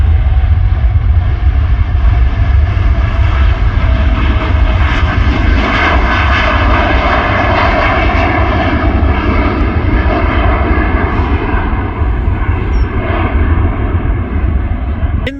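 A Qatar Airways Boeing 787 Dreamliner bound for Doha takes off from Manchester Airport, its jet engines producing a loud, steady roar that stays strong throughout, heard from the nearby viewing park.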